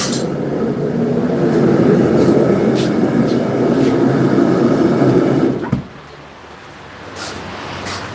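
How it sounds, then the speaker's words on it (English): An angle grinder touches up a freshly forged hot cut, a loud dense grinding roar that runs steadily for several seconds, then cuts off abruptly, leaving faint shop background. "A little touch up on the grinder."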